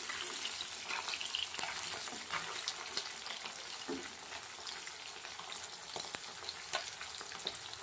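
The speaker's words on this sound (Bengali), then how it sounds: "হালকা লাল লাল করে ভেজে নিলেই হবে।" Fish lightly frying in a pan for a Bengali fish curry, a low steady sizzle of oil with occasional taps and scrapes of a utensil, quiet and close, without talk.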